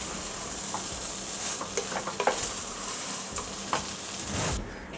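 Plantain deep roast frying in a pan and being stirred, a steady close sizzle with scattered scraping clicks of the spoon, ending abruptly.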